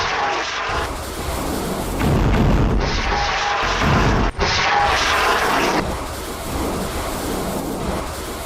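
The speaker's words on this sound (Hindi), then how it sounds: "हिजबुल्लाह ने अदामिज सेटलमेंट पर करीब 11:30 पर रॉकेटों का एक पूरा साल्वो फायर कर दिया" A salvo of rockets fired by Hezbollah toward the Adamit settlement roars as a continuous loud, rumbling barrage with heavy booms surging throughout, and no voices heard.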